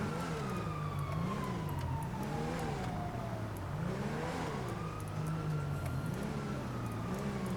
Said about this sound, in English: I hear sirens everywhere.